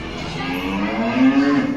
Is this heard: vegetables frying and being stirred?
no